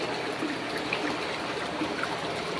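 Strong flow of water from a natural spring, a steady, dense rushing and gurgling that stays continuous and even throughout, close by with no voices.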